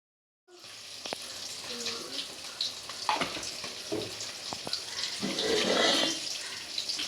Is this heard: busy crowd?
no